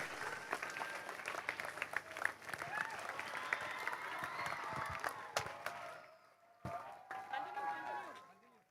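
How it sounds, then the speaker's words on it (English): Audience applause at the Don Bosco High School Panjim annual day, sustained dense clapping mixed with crowd noise and voices, then thinning abruptly near the end into scattered claps and murmurs. "Can we have a loud round of applause for a monumental display of entertainment, laughter,"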